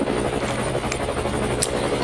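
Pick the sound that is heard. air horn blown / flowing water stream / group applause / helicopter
helicopter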